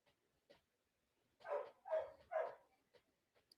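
Three close, moderately loud barks from an agitated dog indoors, with a few faint softer sounds around them.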